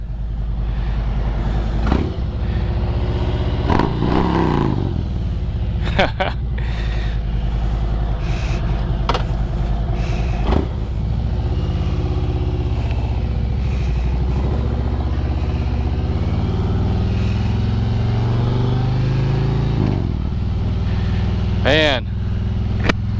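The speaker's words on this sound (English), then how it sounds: "this thing sounds nice." A 2020 Harley-Davidson Road King Special motorcycle engine idles and revs in a low rumbling throb with rising and falling throttle swells and a few sharp clunks, while a rider talks over it.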